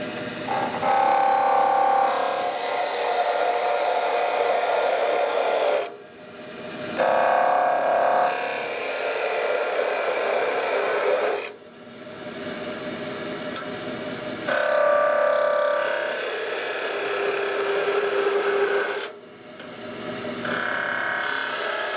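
A wood lathe spins at 2000 rpm while a tool cuts the turning wood, making loud, bright scraping bursts of several seconds each, separated by short quieter gaps.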